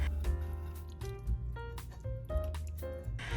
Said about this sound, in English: use a fine mesh strainer to carefully strain the cider